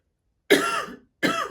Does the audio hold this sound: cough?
yes